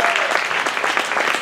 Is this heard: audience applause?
yes